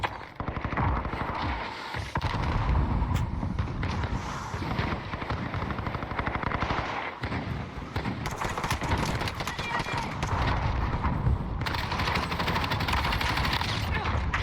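Gunfire during a fight in the video game Warzone, dense bursts of shots and battle noise running continuously under a player's voice.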